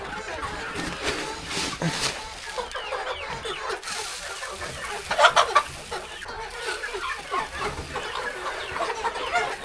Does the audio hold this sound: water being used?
no